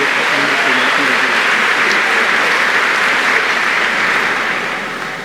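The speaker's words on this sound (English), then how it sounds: "a round of applause for Bella, Enoch, and Carrie as they leave the stage" Dense, sustained applause from a graduation audience at Yale as students leave the stage, loud and even throughout before tapering off at the end.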